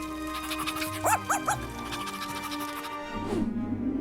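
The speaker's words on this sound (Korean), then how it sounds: "강아지는 행복하게 짖네요" A cartoon-style puppy barks and yips happily, a few short bright yelps in quick succession over a steady musical background, followed by a soft whimper-like sound near the end.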